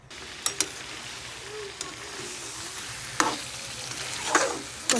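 Chicken pieces hit smoking-hot oil in a kadhai, setting off a steady crackling sizzle punctuated by sharp clinks and bursts of spitting as the pieces are dropped in and stirred.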